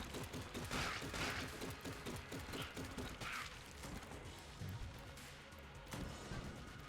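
Cheese gun firing in the video game Enter the Gungeon, a dense, steady barrage of rapid shots and crunchy impact effects that rolls on without pause, with brief brighter bursts layered over the busy, loud clatter.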